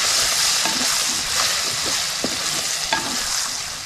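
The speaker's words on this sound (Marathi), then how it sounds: "हा नुसत्या मसाला फिरवून घ्यायचा." Masala being stirred in a pan with tomato and potato for a Kokani-style prawn curry, with a steady sizzle of frying and scattered scraping clicks from the spoon, close and alone.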